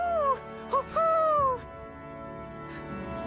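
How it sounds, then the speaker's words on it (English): Owl hoots in the video game Tales of Arise, an odd, un-owl-like call: a few wavering, sliding tonal notes in quick succession, fairly clear over a soft ambient game background. "I've noticed they all sound different, and they're all hilariously not like an owl"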